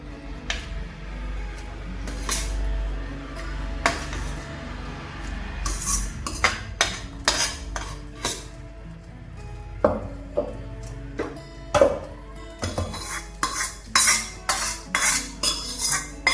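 Cooked masala for a dhaba-style paneer gravy is scooped from a pan into a mixer grinder jar, with a run of sharp spoon and metal clinks and scrapes, sparse at first, then quicker and denser, close by, with no talk.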